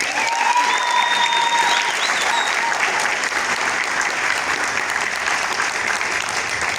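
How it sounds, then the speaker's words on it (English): Steady, loud audience clapping for sponsors at a GBV event, sustained throughout with faint whistles or calls rising over the crowd early on. "Can we clap for our sponsors?"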